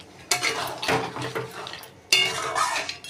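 A metal lid clatters onto a pan of crab curry in a kitchen, with two sharp clanks and some scraping and rattling between them, close and fairly loud.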